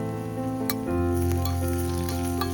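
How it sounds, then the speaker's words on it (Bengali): Green chili and chopped tomato sizzle steadily in a pan of frying spices for a Kerala-style chicken curry, a close, continuous hiss that grows louder partway through, with a tonal hum underneath. "সবকিছু ভালোভাবে ভাজা ভাজা করে নেব"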